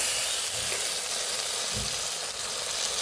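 Vegetables being sautéed with spices in a pan give off a dense, steady sizzle close by, with faint stirring scrapes underneath and no talking.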